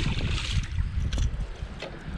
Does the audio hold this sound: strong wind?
yes